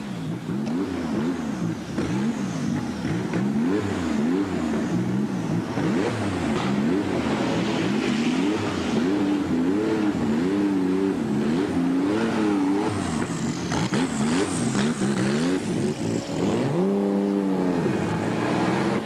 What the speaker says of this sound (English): I will make a round with you on the Silverstone circuit with my Porsche of Stadler